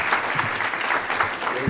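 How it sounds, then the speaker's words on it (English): A conference audience applauds a keynote speaker, dense even clapping that fills the room at moderate loudness, with no voices on top. "So with that, I'd like you to give Chris a round of applause"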